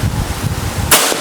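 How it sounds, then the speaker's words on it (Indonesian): An FX Laras PCP air rifle charged to about 2500 PSI fires once, a sharp broadband crack near the end after low steady background noise. "Ini tembakan ketiga"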